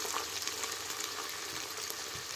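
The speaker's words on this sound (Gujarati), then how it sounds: "આ રીતે કુકરની અંદર ગુવારને વઘારી દઈએ।" Cluster beans tempered in oil inside a pressure cooker over a low flame, giving a steady, even sizzle with a broad hiss that stays level throughout and no voices.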